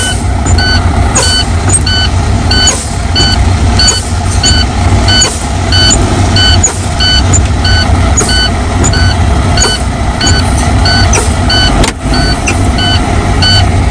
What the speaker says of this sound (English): I will pump the brake and see where this brakes pop out